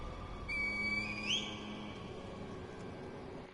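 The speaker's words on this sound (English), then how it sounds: "Call the divine air with the reed whistle" A reed whistle blown in Sekiro: Shadows Die Twice, a single clear whistle tone that slides upward and fades, heard faintly over quiet ambient game background.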